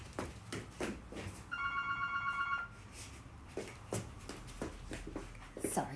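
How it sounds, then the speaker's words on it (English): A telephone rings in a room with a short burst of electronic ring tone, standing out briefly between bits of nearby talk and movement. "Oh, sorry, the phone's ringing."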